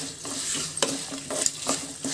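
A tempering of spices with turmeric and salt sizzles steadily in hot oil for Andhra temple-style mango pulihora, with light, regular taps of a stirring spoon on the pan.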